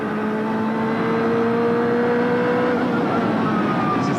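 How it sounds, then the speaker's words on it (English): A Ferrari F40 twin-turbo racing car on a qualifying lap at Jerez circuit in the 1995 BPR Global GT Series, its engine note a loud, sustained onboard drone rising steadily in pitch as it accelerates. "Ferrari F40 twin-turbo, 650 horsepower out of Italian supercar."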